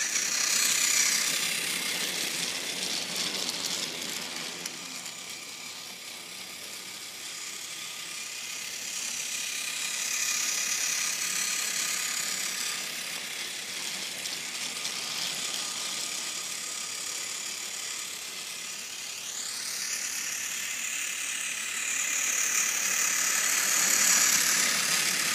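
A Tomy Plarail Thomas battery toy train pulls five tanker cars, making a steady whirring, ratcheting motor and gear drone with faint clicking from the track that runs on continuously and fairly close, with no talk.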